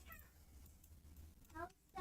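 A cat meows a few times in short, faint calls, with quiet talk close by.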